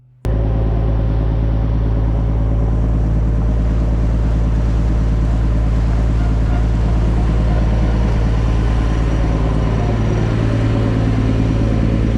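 A ferry ride, the vessel's engine giving a steady, loud low drone and rumble under broadband wash, continuous for the whole stretch with no talk.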